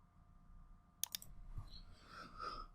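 Two quick, crisp clicks from a computer mouse during a 3D modeling session, close and distinct against a quiet room hum, followed by faint rustling.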